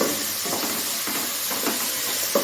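Capsicum sautéing in a pan for chicken manchurian, a steady close sizzle with soft scraping stirs recurring about every half second, no talking.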